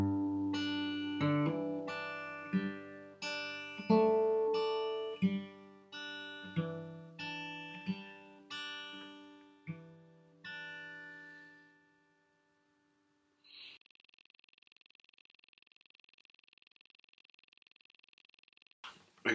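Slow fingerpicked guitar from a song, plucked notes ringing out one by one in an unhurried pattern, close and clear, then fading into a long steady electronic tone near the end.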